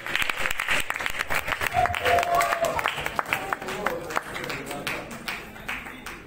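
A crowd at an awards ceremony, the second edition of the Nzonzing Awards, applauds an award-winning artist, with lively clapping and cheering that swells and rises in bursts amid some crowd voices.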